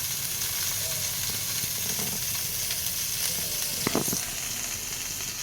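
Squeezed bitter gourd pieces frying in hot oil in a home kitchen, a continuous bright sizzle and hiss with a few sharp spluttering pops near the end.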